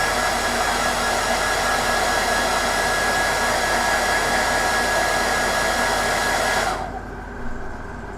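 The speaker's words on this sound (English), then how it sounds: "Hit it with a hairdryer again." A hair dryer blowing on freshly base-coated paint on a miniature marine model, a loud, steady whooshing roar held close for several seconds before it cuts off abruptly into quiet room sound.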